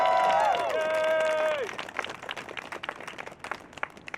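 Applause and scattered clapping break out from a crowd at a peace vigil and ceasefire gathering in Philadelphia, rising as sustained musical tones fade out, then continuing as uneven, moderately close clapping.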